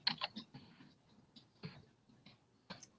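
Typing on a computer keyboard: quiet, irregular bursts of sharp clicks with short pauses between, close and alone with no voices.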